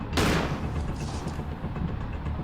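A grenade explodes in a video game, a sharp close boom with a rumbling low tail and scattered crackle over continuous game background noise.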